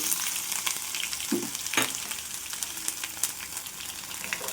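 Chopped onions, green chillies and ginger fry in a pan for gobi masala fry, with a dense, even sizzle close to the microphone and occasional scraping knocks as they are stirred back and forth, no voices.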